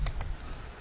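Two quick, faint clicks from computer keyboard keys, close by and alone in a quiet room.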